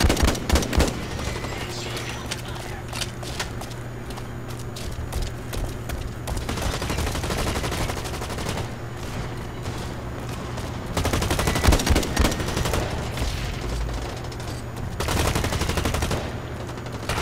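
Sustained gunfire from a BlackLight first-person shooter match, with rapid automatic bursts and sharper single shots running nearly continuously over a steady low engine-like hum, loudest in heavy clusters near the start and middle.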